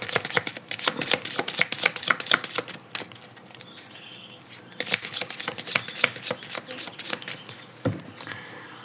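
Oracle cards are shuffled and cut by hand in quick, crisp riffling flutters, clustered bursts of close papery clicks separated by brief pauses, with a soft voice speaking quietly between them.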